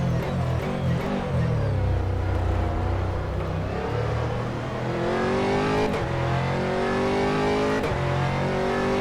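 Aston Martin GT3 race cars at the Nurburgring in rFactor, engines droning and revving with rising and falling pitch sweeps, loud and continuous, a few sharp gear-change blips and no speech.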